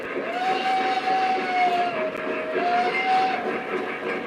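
A Lionel Pennsylvania B6 model train runs on a large home layout, with a steady rolling rumble and a sustained whistle tone held for about three seconds, close and fairly loud.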